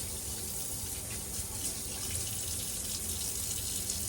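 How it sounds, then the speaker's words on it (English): Water runs steadily from a tap into a sink as hands are rinsed during a clinical handwashing demonstration, a soft, even, continuous rush with no speech. "we're going to go ahead and wash our hands for 15 seconds. So rinse them in downward"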